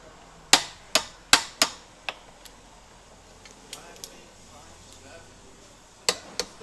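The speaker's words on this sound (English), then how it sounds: "So we'll go ahead and torque all the bolts for all the links." A torque wrench snaps sharply as suspension link bolts on an AE86 are tightened to 87 foot-pounds: a quick cluster of four crisp clicks, then scattered fainter ones and a final pair.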